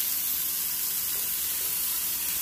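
An oiled Alaskan cod fillet sizzles in a hot pan, a dense, continuous bright hiss that holds steady and loud the whole time, close up, with no voices.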